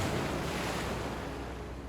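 Big ocean waves at Nazaré roar in a continuous broad wash of surf, mixed with wind buffeting the microphone, fairly distant and steady.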